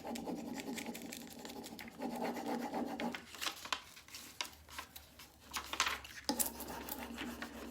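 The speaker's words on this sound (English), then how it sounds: "So just keep rubbing as you lift your top sheet." A Prima transfer sheet rubbed and burnished onto a surface, making close, faint scratchy rubbing strokes in uneven bursts with short pauses, no talking.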